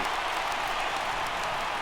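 Stadium crowd in MLB The Show 18 rising for a 3-2 count, a steady broad roar of cheering and applause that holds at an even, fairly loud level throughout with no talk over it.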